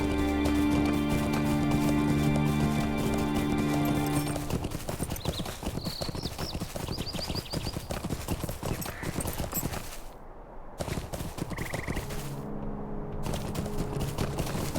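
Horse hooves galloping in a video game, a fast rhythmic clip-clop running under background music, briefly thinning before the beat resumes.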